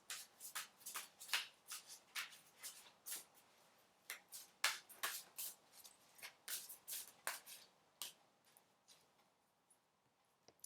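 Tarot cards shuffle close by in repeated quick riffling bursts, about two dozen crisp rustling swishes in an uneven rhythm, quiet and alone without talking.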